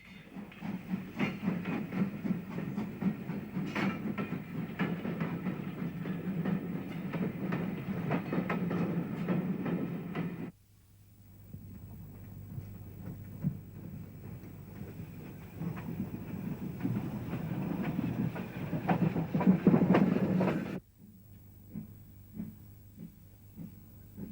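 A BR steam locomotive, number 75027, hauls restored Southern Railway coaches on the Bluebell Railway, with a steady rolling rumble and wheel clatter that fades, then returns moderately loud before cutting off.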